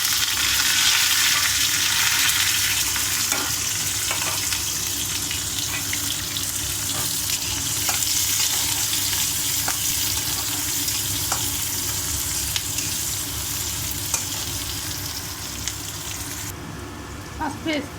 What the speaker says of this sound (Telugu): ఉల్లిగడ్డ కరివేపాకు 2 వేసేద్దాము.